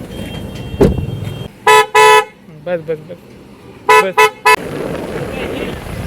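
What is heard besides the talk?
car horn honking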